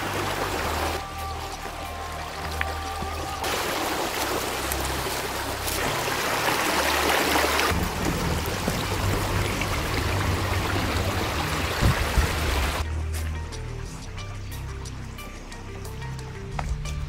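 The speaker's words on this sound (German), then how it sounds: "Ein schönes Tal mit einem kleinen Bach drin." A small stream running through a valley in the Odenwald hills, a steady rushing and gurgling of water that shifts in loudness as the listener moves along it, with no talking.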